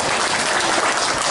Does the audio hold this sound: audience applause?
yes